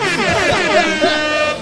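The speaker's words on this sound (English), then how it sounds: "Give him the air horns." An air horn sound effect blares loud and close, a sustained, brassy multi-tone blast filling the whole short moment.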